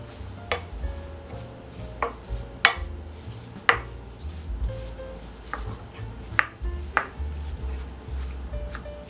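Croquette ingredients for a vintage leftover-turkey recipe being mixed together in a bowl, with scattered utensil clicks and taps against the dish at an irregular pace, close and fairly quiet over a low background hum.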